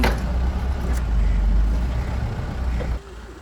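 A loaded truck drives in and reverses into a factory yard, its engine a steady, close, heavy low rumble that drops away abruptly just before the end.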